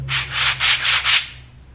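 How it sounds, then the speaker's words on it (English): Sand blocks scraped together as a rhythm instrument in a children's music lesson, giving five even, raspy strokes in a steady back-and-forth pattern, close and moderately loud, then fading out. "we're going to use our sand blocks that scrape"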